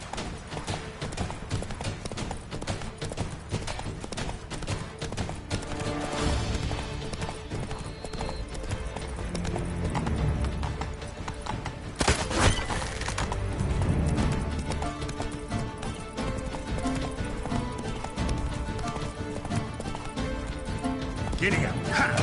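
A horse gallops in The Witcher 3, its rapid rhythmic hoofbeats running steadily under game music and ambience, with occasional talking from characters.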